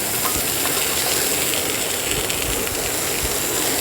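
A pressure cooker on the stove cooking rohu fish curry with fried vegetables gives off a steady, loud, continuous hiss of escaping steam for the whole stretch, with no voices over it.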